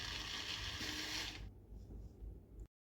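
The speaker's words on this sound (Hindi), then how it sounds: "तो मैं ग्राइंडर में ट्रांसफ़र करके इसको ग्राइंड कर लेती हूँ" A kitchen grinder whirs as it grinds soaked dry nuts into a smooth paste, producing a close, steady, noisy burst for about a second and a half. It then cuts off to faint mechanical rattling before falling silent.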